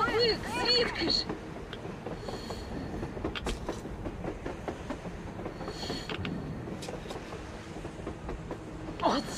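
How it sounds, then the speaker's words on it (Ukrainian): A steam locomotive rolls along in the video game Metro Exodus, giving a steady mechanical rumble with rail clatter and occasional squeals. Voices speak over it at the start and end. "Паровик, звідки ж?"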